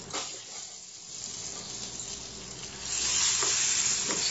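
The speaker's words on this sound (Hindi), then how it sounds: "इसमें तड़के को डाल देते हैं, थोड़ा सा चटनी में डाल देंगे" Hot tadka tempering poured into a semolina breakfast chutney, a steady sizzle that jumps louder partway through as the oil hits, with no talk over it.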